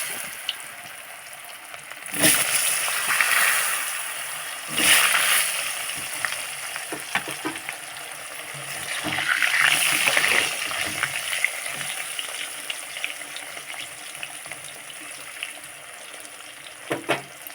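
Potatoes frying in oil left over from frying fish, a continuous moderate sizzle that swells in a few bursts as pieces go in or get turned, with occasional light clinks and no talking.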